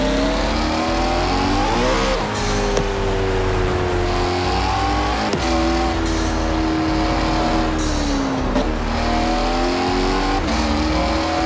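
A sports car engine screams continuously in CarX Drift Racing, rising and falling with each shift and throttle change, with occasional tire squeal. The engine stays loud and close, and no one speaks.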